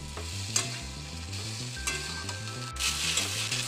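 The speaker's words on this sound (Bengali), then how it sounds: "তারপর ভালোভাবে নাড়াচাড়া করে নিয়ে একটু গোলমরিচ গুঁড়ো দিয়ে ডিমের ঝুড়িটা দিয়ে দেব" Boiled pasta with red sauce stirred in a pan, a spoon scraping in a steady rhythm over a low sizzle, with a brighter burst of frying near the end and no voices.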